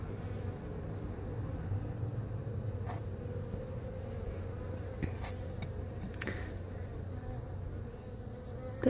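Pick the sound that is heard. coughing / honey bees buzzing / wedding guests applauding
honey bees buzzing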